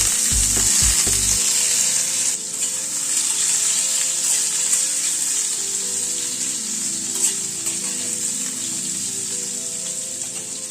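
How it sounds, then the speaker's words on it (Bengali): Spices crackle in hot oil with asafoetida before papaya goes into the frying pan for a pigeon pea dal. A steady, bright sizzle runs throughout, with a few low knocks early on. "ফোড়নটাকে একটু ক্র্যাক করিয়ে নেব। এবার পেঁপেটা দিয়ে দিচ্ছি।"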